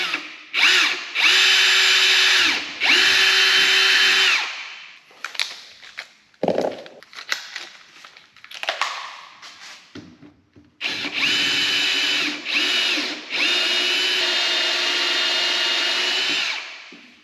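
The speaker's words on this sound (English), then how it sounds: "I should be able to use my step drill bit." A power drill with a step drill bit whines loudly in several long bursts, stopping and restarting, with a few short clunks and pauses between runs as the bit cuts through a tank on a 50-year-old military truck.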